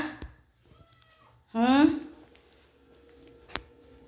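A cat gives one clear, close meow in a quiet room, with a couple of soft bumps and faint sounds around it.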